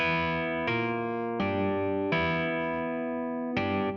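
Sustained electric piano chords, five struck in a slow sequence, each ringing with a bright, slightly processed tone.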